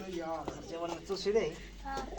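Low, soft pigeon coos mixed with nearby chatter and voices, the cooing surfacing in short bursts through the talk.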